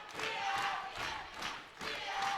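Crowd at a high school basketball sub-state tournament game cheering and roaring in a gym, a loud sustained wash of voices that swells and dips in waves.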